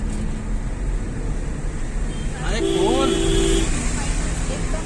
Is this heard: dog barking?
no